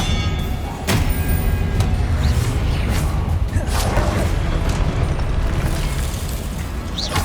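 Blasting-curse spell effects in the Hogwarts Legacy video game rumble with a sustained loud boom and crackle, broken by a few sharp bursts across the stretch, with no talk.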